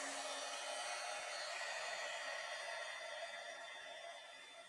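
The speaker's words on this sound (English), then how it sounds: "I'm going to bring the heat tool here, and we're going to set this" A steady, loud whoosh of a hot air tool blowing continuously, fading slightly toward the end.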